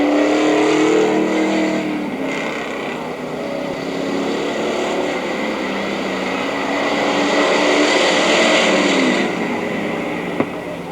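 Race cars roar around the Mt Clemens oval on the last lap of a 1984 race, a dense, steady engine drone that swells as the pack passes close, with a brief sharp knock near the end.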